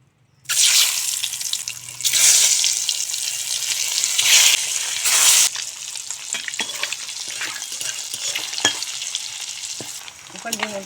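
Eggs dropped into hot mustard oil seasoned with turmeric and salt burst into loud sizzling bursts, then settle into a steady crackling fry with small spits and scrapes, close up and without talk.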